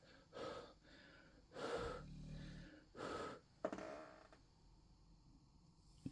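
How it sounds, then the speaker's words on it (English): Someone blows several times on a freshly glued metal wargames miniature, about four breathy puffs of air close to the microphone, soft and irregular, with a small knock near the end. "Just blow on it a sec."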